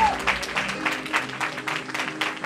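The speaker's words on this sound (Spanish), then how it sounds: "Fuerte las palmas para ella." Dense, steady hand-clapping from a pageant audience greets a Miss Bolivia 2024 contestant representing Cochabamba. The clapping stays fairly loud and continuous across the short stretch, with brisk overlapping claps and no talk heard over it.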